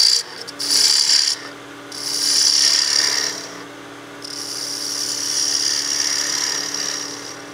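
Wooden birdhouse-ornament finial spinning on a lathe as its end is rounded over with a spindle gouge: continuous raspy scraping that swells and fades in waves, with no talk.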